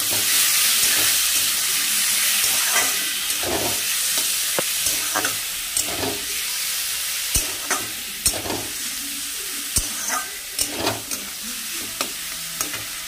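Ripe seeded banana paste fries with black cumin in a hot pan. It gives a broad, steady sizzle, and a utensil stirs it in a run of sharp, irregular scrapes and clacks that grow more frequent toward the end.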